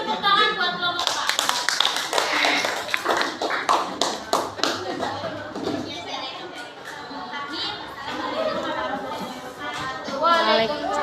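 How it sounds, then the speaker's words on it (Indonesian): Students in a classroom clap for a group, a scattered run of sharp hand claps building then thinning out, with children chattering and talking over and after it. "silakan beri tepuk tangan buat kelompok Pak"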